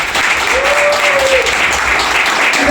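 An audience at a drop-in center in Katanga, Zimbabwe claps their hands, giving a loud, dense burst of applause throughout, with a faint tone rising briefly beneath it.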